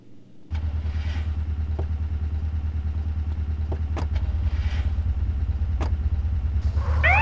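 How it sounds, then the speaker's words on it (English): Police motorcycles idle in a video game heist mission, a steady low engine rumble that kicks up louder after a moment, with occasional clanks and a brief rising rev near the end; nobody speaks. "I've unloaded the police bikes."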